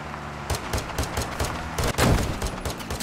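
A volley of gunshots rings out as sharp, repeated cracks, some overlapping in clusters, fairly close and heard alone with no talking.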